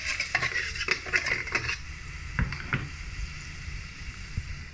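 A lid clatters onto a metal cooking pot amid a few sharp clanks and scrapes of cookware, loud and close, followed by quieter handling noises and faint low rumble.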